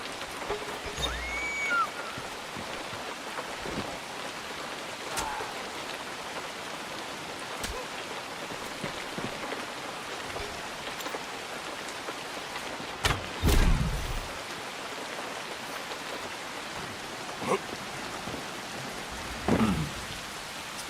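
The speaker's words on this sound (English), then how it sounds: "Ah, it's raining." Rain falling in the Assassin's Creed Shadows video game, a soft continuous patter of drops on surfaces with scattered louder taps and a few brief low rumbles, fairly quiet and steady.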